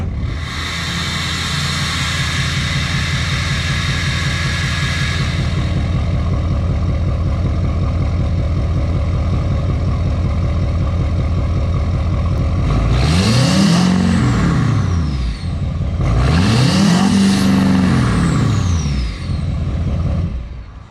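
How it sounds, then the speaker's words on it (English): A deep, loud LML Duramax diesel truck engine through a 5-inch MBRP exhaust rumbles steadily, then revs hard twice in quick succession, each rev rising and falling with a throaty, booming exhaust roar. "Okay, here's our 5-inch exhaust."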